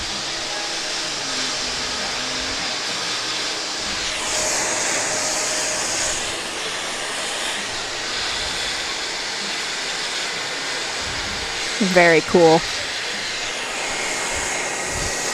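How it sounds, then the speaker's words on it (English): Big airliner jet engines drone in a loud continuous roar from some distance at JFK airport, with a short spoken remark near the end. "It's nice hearing those engines boot up."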